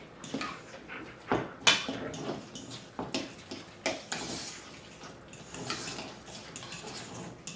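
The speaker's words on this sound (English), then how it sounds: "We're just going to take our fork and we're going to mix it all together." A fork mashing and stirring guacamole ingredients in a bowl, including serrano chili and lime juice, producing a series of close, irregular clinks and wet squelches.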